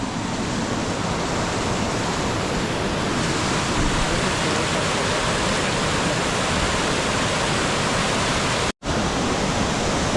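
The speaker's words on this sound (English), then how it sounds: "Waterfalls. Just look at that." A man-made waterfall at Silwane Nature Reserve near Bulawayo pours in a loud, constant rushing roar that fills the whole scene. The roar breaks only for a brief instant near the end.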